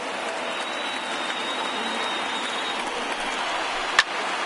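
A baseball stadium crowd of around 33,000 rises to its feet at Cardinals versus Pirates, a steady wash of applause and cheering with no break, loud and continuous, ending with a single sharp clap-like knock near the end.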